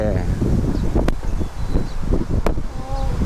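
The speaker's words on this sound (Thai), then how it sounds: "ไม่ใช่ลมแรงลมแรง ลมแรงหมวกกลวนะครับ ลมแรงอากาศดี" Strong wind blows outdoors by a canal bridge in a park, a continuous rough buffeting rush with insect-like buzzing and birds, while someone talks over it.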